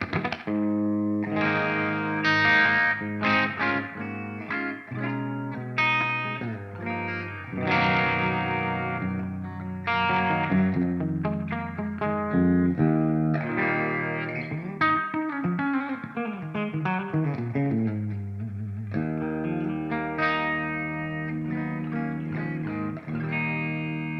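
Clean electric guitar through an EVH 5150 Iconic Series amp, played alone, chords and single-note lines ringing out with a spacious reverb tail, steady and fairly loud.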